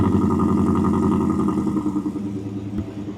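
A Ford F150 truck engine idles close by after a cold start, a loud, steady mid-pitched rumble that eases slightly toward the end.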